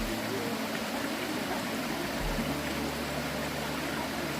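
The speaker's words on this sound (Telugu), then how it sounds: "ఈ పక్కన జలపాతం" Waterfall at the Punyagiri Shiva temple, heard as a steady, dense roar of falling water that fills the whole clip at an even level, with a low rumble underneath and no voices.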